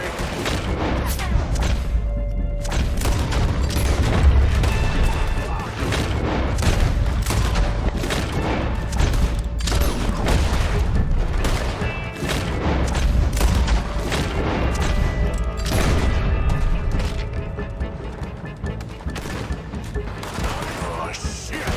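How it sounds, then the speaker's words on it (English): Rapid gunfire and booming explosions in the video game Red Dead Redemption 2, a Gatling gun battle during a bank shootout in Saint Denis, loud and continuous with dense overlapping shots throughout. "Gatling gun!"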